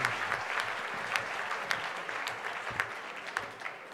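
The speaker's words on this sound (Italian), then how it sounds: "L'applauso alla signorina, allora." An audience at a political assembly claps for a young woman, a moderate round of applause with a few sharper individual claps standing out, steady and fairly close, without speech over it.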